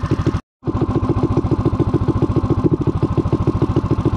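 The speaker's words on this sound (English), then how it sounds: "the idle's picking up a little, so we're warming up" A vintage mini bike with a Honda GX160 engine idles while warming up, a steady rapid putter of evenly spaced beats after a brief dropout, loud and close with no talking.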